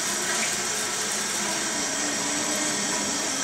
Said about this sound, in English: I'm trying to flush it now, and it takes a number of times for the pressure to build up before I can actually flush